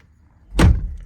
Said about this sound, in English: it will unlock the doors and you'll be able to hear it